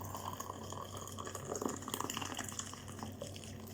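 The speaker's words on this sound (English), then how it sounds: "now that the kettle's boiled, you're gonna pour it into this" Boiled kettle water is poured into a cup, giving a steady, faint liquid splashing and trickling sound that runs close by and alone for a few seconds, with no talking.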